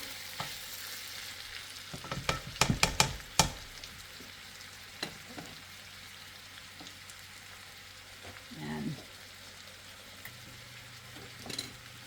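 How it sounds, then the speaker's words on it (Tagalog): Green peas and carrots frying in a pan for fried rice, with a steady low sizzle and several sharp clatters of stirring around the middle, then a brief louder stir later. "So lutuin muna natin tong green peas at saka carrots for about 1 minute."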